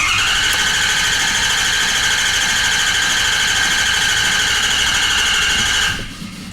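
A Ford F-250 with a swapped 2015 6.7 Powerstroke diesel cranks without firing, giving a loud, steady, high whine for about six seconds before cutting off.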